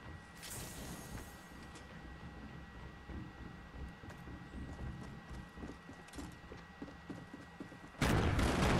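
A C4 charge in Fortnite going off: a steady mechanical clatter of gameplay, then a sudden loud, broad blast that bursts in at the very end and holds, with no talk.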